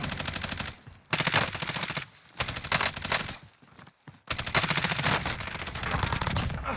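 Bullfrog SMG fire in the video game Warzone, rapid sustained automatic bursts close and loud, with short gaps between volleys and no talk.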